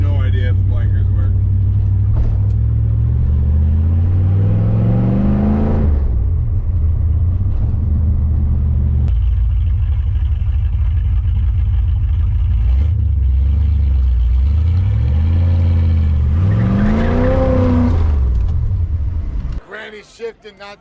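A 1983 Pontiac Firebird's engine drones loudly from close inside the car, climbing in pitch as it accelerates and dropping at each gear change, with several rising pulls in a row and a voice talking over it.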